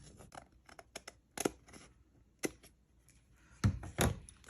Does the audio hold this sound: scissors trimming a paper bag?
yes